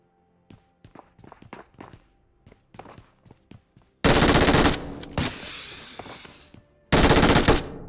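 Video game gunfire during a fight: scattered single shots and footsteps, then two long, loud bursts of automatic fire, the second after a short pause.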